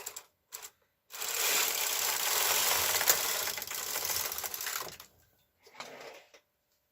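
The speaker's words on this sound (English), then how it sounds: "We're going to knit across 1 row." A punch card knitting machine carriage slides across one row of bulky yarn, a steady mechanical rattling whir lasting about four seconds, with short clicks before it and a brief second burst afterward.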